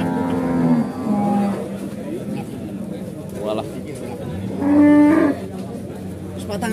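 Cattle from the Gunung Kendeng area moo repeatedly at a market in Pati, with deep drawn-out calls and one louder bellow near the end, over a busy background of crowd chatter.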